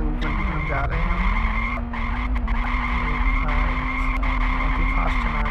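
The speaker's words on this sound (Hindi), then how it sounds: "ये हम लोग गाड़ी लेके ऊपर की तरफ जा रहे हैं" A car is driven in the Ice Scream horror adventure mobile game, with a steady droning engine tone and squealing skid noises, loud and continuous throughout.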